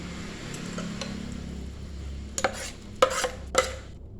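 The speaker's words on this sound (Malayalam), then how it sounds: "എല്ലാം കൂടി നന്നായിട്ട് മിക്സ് ചെയ്ത് കൊടുക്കുക." Kerala vattayappam batter being stirred with yeast mixture in a bowl, a soft continuous mixing sound with a few sharp clinks of utensil against the vessel near the end.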